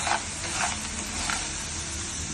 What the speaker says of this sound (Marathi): सांडगे मसाला सोबत मिक्स करा.